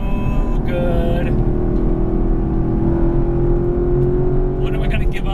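Chevrolet Camaro SS 1LE V8 engine running in a steady, loud rumble that rises slightly in pitch midway, with a person talking over it at the start and end.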